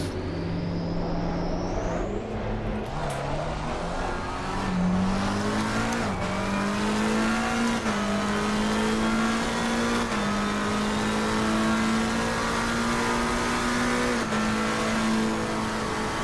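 A McLaren GT3 race car in a racing video game, its engine loud and close, the note climbing and dropping through gear changes over a long continuous run with no talking.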